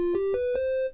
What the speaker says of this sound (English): Next we have the triangle wave that looks like this and sounds like this.